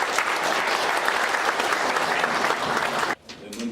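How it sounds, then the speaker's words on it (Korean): A large audience at a Saenuri Party forum in the National Assembly's Constitution Memorial Hall breaks into dense, sustained applause that fills the room evenly, then cuts off abruptly near the end. "여러분 큰 박수로 맞아주시기 바랍니다."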